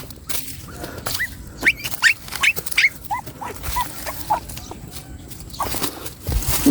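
Moy Moy, a pet dog, whines and cries close by in a garden during a sweet potato and tomato harvest, giving repeated high yelps and whimpers over rustling and footsteps.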